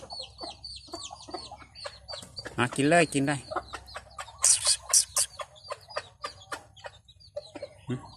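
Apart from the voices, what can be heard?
chickens clucking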